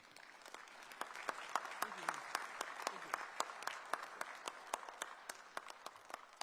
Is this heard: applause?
yes